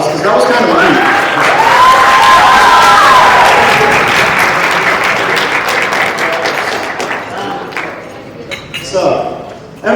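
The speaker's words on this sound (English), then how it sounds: "let's give them a huge round of applause" Loud, sustained crowd applause at a gala celebration for differently abled performers, dense clapping with cheering voices that gradually thins toward the end.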